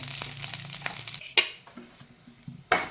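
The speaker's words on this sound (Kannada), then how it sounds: "ಸಾಸಿವೆ, ಕರಿಬೇವಿನ ಎಲೆ, 2 ಒಣಮೆಣಸು ತುಂಡು ಮಾಡಿ ಈ ಥರ ಹಾಕ್ಕೊಳ್ಳಿ." Mustard seeds, curry leaves and dried chilli pieces hitting hot coconut oil, close soft sizzling with stirring scrapes and two sharp crackling pops from seeds bursting.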